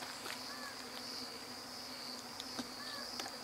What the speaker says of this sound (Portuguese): Tá escutando as abelhas? Tô, a abelha tô ouvindo desde lá de trás.